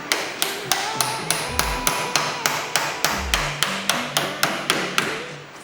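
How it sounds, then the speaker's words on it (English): A small chisel or paint scraper is driven under a glued camper wall panel, giving a steady run of sharp, evenly spaced taps about three per second, close and distinct, with occasional low thuds. "this little chisel or a paint scraper or whatever it was that I borrowed from the service department is suddenly becoming my best friend"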